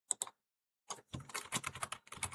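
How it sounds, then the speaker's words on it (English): Quick bursts of typing on a computer keyboard, a couple of isolated keystrokes followed by a brief pause and then a rapid, clattering run of keys, close and fairly quiet. "Let me type it out"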